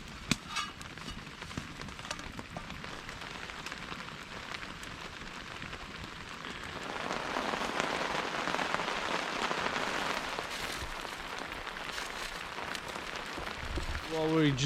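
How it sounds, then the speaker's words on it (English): Steady rain falls outdoors at a cooking spot, a dense patter that grows heavier about halfway through, with a few nearby knocks and splashes. "I'm gonna let the rain help me with the dishes today."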